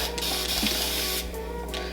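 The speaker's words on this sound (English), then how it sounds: "all I'm gonna do is just spray it with a little bit more water" A spray bottle of water hisses in a short pump-driven burst, then sprays again after a pause, close to the microphone, while detangling long natural hair.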